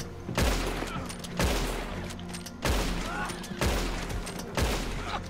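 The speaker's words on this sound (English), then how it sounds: "Sounds like dynamite." Dynamite blasts in a Wild West video game: four heavy, booming explosions spaced roughly a second apart, each a sharp broadband crack with a rumbling tail, loud and close.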